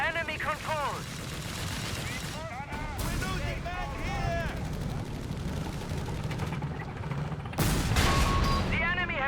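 A tank main gun fires in a Company of Heroes 3 battle, heavy booming shots among continuous gunfire and chattering small arms, loud and close, with a big blast near the end.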